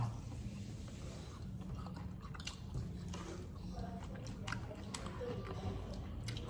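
Tamarind, a mix of varieties, chewed close to the mic, with steady moist biting and squishy mastication running throughout at even volume and faint low background noise.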